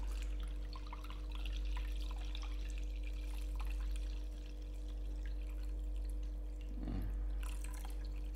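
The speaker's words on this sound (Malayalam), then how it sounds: "ഇനി ആവശ്യത്തിനുള്ള വെള്ളം ഒഴിച്ചു കൊടുക്കുക." Water is poured from a bottle into a pot of fish curry on the stove. It is a faint, steady trickle over a low background hum, with a brief splash near the end.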